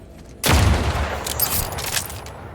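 Gunfire in the video game Outer Worlds 2: a sudden loud blast opens a dense, sustained burst of shots that rattles on with repeated peaks, close and forceful, with no voices over it.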